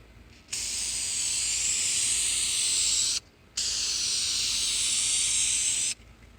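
Light blue paint sprayed from an aerosol can onto an upper chassis brace from a 1991 Toyota MR2, two long close hissing bursts of about three seconds each separated by a brief pause.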